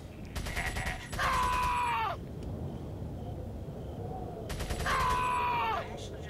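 Two bursts of rapid gunfire in Resident Evil 4, each about a second long and separated by a pause, crackle in the foreground, followed each time by a groaning, descending cry.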